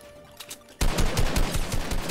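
Video game gunfire erupts suddenly after a quiet moment, a rapid burst of loud, evenly spaced shots continuing to the end.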